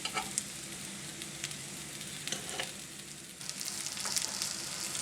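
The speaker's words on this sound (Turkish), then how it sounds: "ekmeğimi de kızartıyorum" Steady crackling sizzle of bread frying in a hot pan, close and continuous with small pops, the hiss brightening toward the end.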